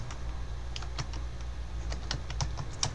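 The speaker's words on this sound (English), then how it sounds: "You would basically type in sudo apt-get" Quick, light clicks of a computer keyboard as a Linux terminal command is typed. The uneven keystrokes sound close and fairly soft over a constant low electrical hum.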